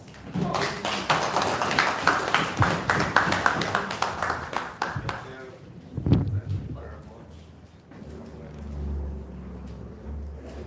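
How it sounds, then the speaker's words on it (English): An audience at an award ceremony applauds a recipient, a loud, dense burst of clapping for about five seconds that dies away, followed by people talking. "And please, applause."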